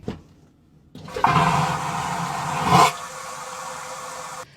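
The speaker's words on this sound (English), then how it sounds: "when you flush it, I want it to make the most loud, obnoxious, and terrifying noise" A cabin bathroom toilet built to flush like an airport toilet, a loud sudden roaring whoosh that kicks in after a short pause, swells to a peak, then settles into a steady rushing drain before cutting off.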